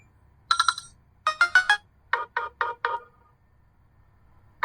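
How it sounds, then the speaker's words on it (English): A Nothing Phone 2a ringtone plays alone in short bright electronic bursts: one chime, a rapid triple, then four evenly spaced tones and a final note at the end. "This is a ringtone."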